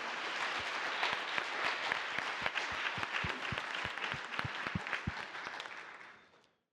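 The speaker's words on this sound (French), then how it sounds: "Peut-être qu'on peut les applaudir." A round-table audience at a colloquium applauds its speakers, dense sustained clapping with crisp individual claps standing out, fading away at the close.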